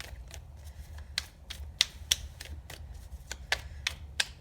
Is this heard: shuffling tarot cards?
yes